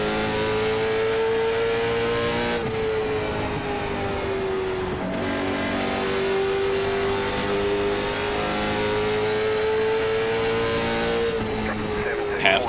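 A late model stock car engine in a racing game drones steadily at half throttle down the front stretch at Five Flags, a sustained buzzing tone that shifts pitch slightly between gear-like steps, with talk over it.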